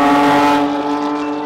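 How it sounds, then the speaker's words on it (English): A Sharkwerks Porsche GT3 RS sports car engine roars steadily at speed, a sustained high-revving drone with strong harmonic tone. "Listen to that engine."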